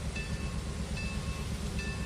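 Steady low rumble of a train rolling over jointed rail in the Trainz 2019 simulator, with faint periodic clicks from rail joints recurring about once a second.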